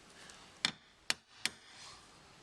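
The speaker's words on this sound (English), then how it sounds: "we're just going to give it a little tap just to mark the centre" Three sharp, light hammer taps on a centre punch mark a drill point on tape over a Land Rover Defender TD4 Puma body panel, each click crisp and isolated in a quiet setting.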